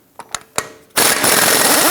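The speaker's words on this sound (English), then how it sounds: "Using a 36mm socket, let's go ahead and loosen and remove the axle nut" An impact tool spins a 36mm socket on the axle nut of a 1997-2006 Jeep Wrangler: a few sharp metallic taps first, then a sudden loud continuous hammering buzz that runs to the end.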